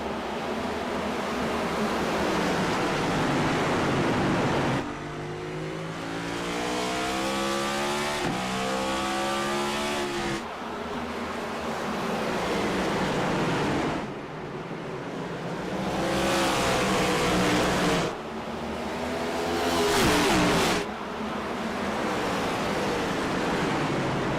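Race cars roar around the tight Martinsville paperclip oval after a green-flag restart in a simulated ICON Cup race, loud sustained engine drone with rising and falling revs as cars accelerate and brake through the corners.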